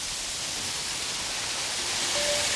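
The steady roar of water falling at the 1,000-stage waterfall in Bifeng Gorge, a broad, even wash of noise that holds constant throughout without pauses or voices.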